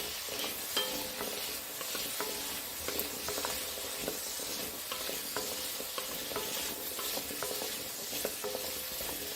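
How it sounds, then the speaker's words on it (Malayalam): Shallots sautéing in a pan for a medicinal shallot kanji, a continuous close sizzle and hiss with frequent stirring scrapes and light clicks of the utensil, no talking. "ഒന്ന് വഴണ്ട് വരട്ടെ. അപ്പോൾ നമ്മളത് ഒരു 3 മിനിറ്റ് നേരം വഴറ്റി."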